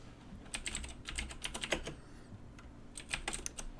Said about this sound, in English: I'm typing because I don't believe Eddie Stash